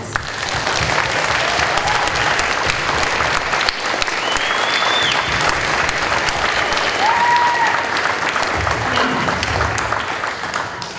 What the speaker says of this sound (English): So if you'll please join me in giving Mrs. Merrifield a round of applause.